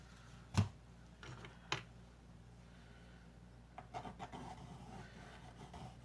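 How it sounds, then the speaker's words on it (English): A barbecue skewer scratches through wet paint during abstract painting, giving a few brief, faint, close rubbing scrapes separated by quiet stretches, with no talking. "So I draw on the wet paint sometimes, it just adds some texture"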